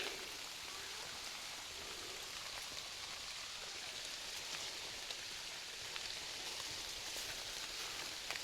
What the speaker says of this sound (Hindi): बारिश लग रही है अभी बहुत तेज़ वाली